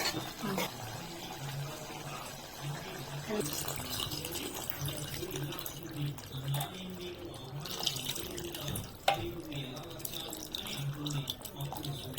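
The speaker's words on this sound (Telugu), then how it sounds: "ఇప్పుడు పులుసు పోస్తాను." Tamarind broth pours and splashes into a pot of simmering okra and prawns in a steady stream, with a low hum and clinks behind it, and a voice talking intermittently.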